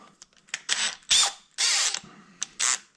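A metal drill chuck being turned by hand, giving a series of short ratcheting, clicking bursts in an irregular rhythm, close and fairly loud.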